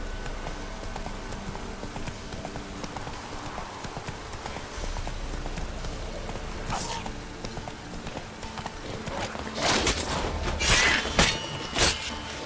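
Roach the horse galloping in The Witcher 3: Wild Hunt, hoofbeats thudding steadily under game ambience, with a few sharper clattering bursts near the end; a voice speaks briefly.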